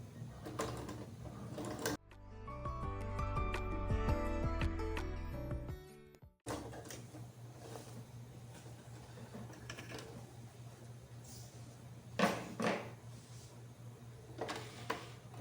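A sewing machine stitches a safety seam close to the fabric edge on a shampoo travel case, its motor whirring steadily for about four seconds before stopping, with quieter handling noises around it.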